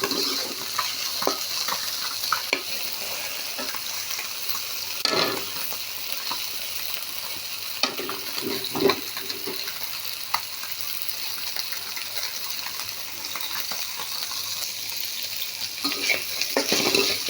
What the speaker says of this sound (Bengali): এটা একটু হালকা ভাজা ভাজা করবো আমি